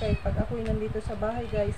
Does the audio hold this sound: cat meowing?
yes